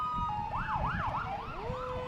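Fire truck sirens at the Rally in the Valley parade in Valley City, several overlapping yelping wails sweeping up and down quickly, moderately distant over a low rumbling street background.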